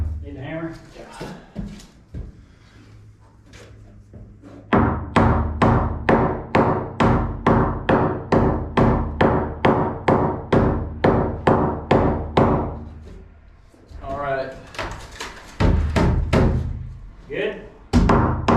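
A hammer taps repeatedly while flooring is laid, a fast run of about twenty even knocks, close and loud, with people talking before and after the run.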